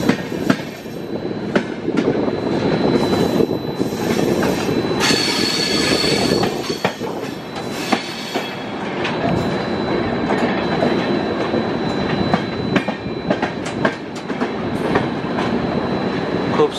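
Anga Express train curving through a railway terminal: steady loud rumble of wheels on rails with metallic squeals and clickety-clack over the whole stretch, no voices.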